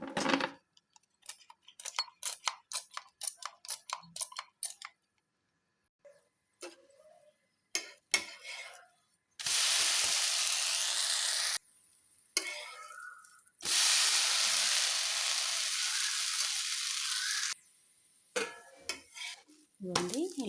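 Onion and carrot dosa batter hits a hot pan in a rapid run of small ladled taps and stirs, then bursts into loud, steady sizzling in two long stretches, separated and followed by short scraping and clinking sounds.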